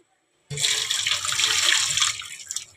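Tap water pours continuously for soaking urad dal (biulir dal), starting abruptly after a short silence and running loud and close for over two seconds before easing slightly.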